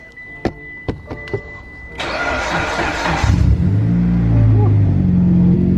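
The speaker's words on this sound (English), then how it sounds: "Alright, the car is started." A few sharp clicks, then a 2008 Mitsubishi Lancer Evolution X engine cranks and catches, settling into a steady, close idle with a low rumble.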